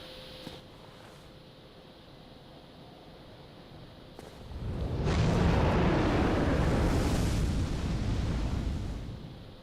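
A dragon breathing fire in Dark Souls: a broad, roaring rush that swells up after a few quiet seconds, holds steady, then slowly fades, with no talk over it.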